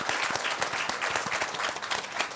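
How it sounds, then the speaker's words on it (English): Audience applause at a summit opening plenary session, a dense, steady wash of many hands clapping throughout, fairly loud and close with no voices over it. "Let's give him one more round of applause."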